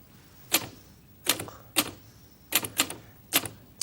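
A typewriter clacks in sharp, separate keystrokes, about eight strikes in an uneven rhythm, some coming in quick pairs, close and fairly quiet against a still background.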